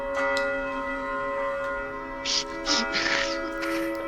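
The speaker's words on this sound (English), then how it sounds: "you hear a bell" A bell rings with sustained, steady tones that hang over a low background, joined by a few brief noisy bursts near the end.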